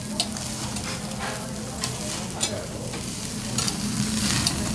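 Vegetables cooking in foil on a grill at a Kaga Onsen meal, giving a continuous close sizzle and crackle with small pops, steady and moderately loud, with no talking.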